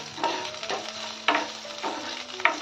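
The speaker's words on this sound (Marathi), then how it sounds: "या तेलामध्ये शिमला मिरची परतून जाईल" Capsicum is stirred and sautéed in hot oil for veg Kolhapuri, with a close, bright sizzle and four or five quick scraping strokes of a spoon in the pan, no voices.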